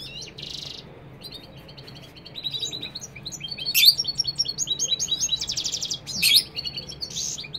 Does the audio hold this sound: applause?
no